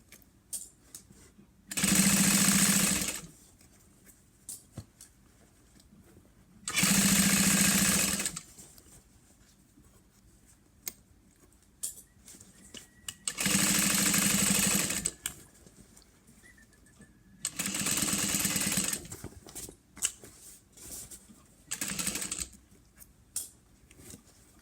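A sewing machine stitches a curved fabric seam on a lunch box in five separate bursts of loud, steady whirring, with quiet pauses and small handling noises between runs.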